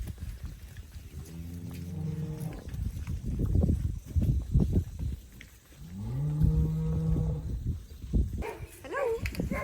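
Cattle lowing in a rural field near Opotiki and Gisborne, New Zealand: two long, harmonic moos sounding fairly close, separated by a stretch of mixed noise and low rumbling.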